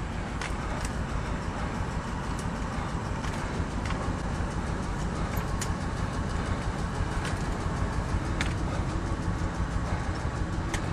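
A truck engine cranks over on a low battery, a steady churning drone running the whole time, loud and continuous with no clear catch or firing.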